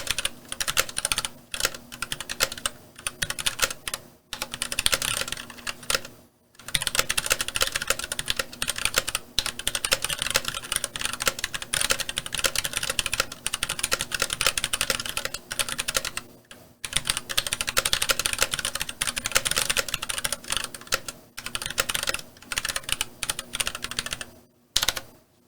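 Rapid typing on a Keychron C1 keyboard, a dense close-up stream of key clicks in steady bursts broken by brief pauses, with no voices.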